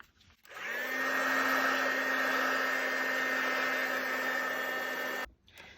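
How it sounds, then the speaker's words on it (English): A heat gun blows steadily for about five seconds while drying a mixed media card, starting and stopping abruptly with a sustained whirring hum and airy hiss, close and loud, with no talking. "then I'm going to bring my heat gun in to speed this process up"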